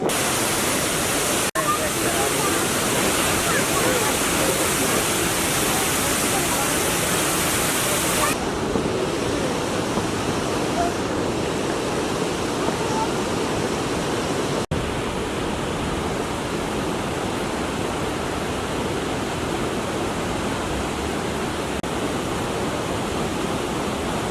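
Yerköprü waterfall in Konya, a continuous broadband roar of rushing, falling water, steady and close throughout, slightly duller in the second half, with no talk over it.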